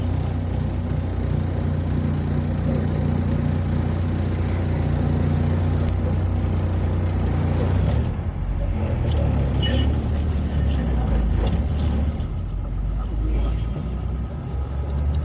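Heavy traffic on a busy Kerala main road on the way to Sabarimala, with a steady, loud rumble of cars, buses and trucks passing close by and low engine drone throughout, easing slightly after the midpoint.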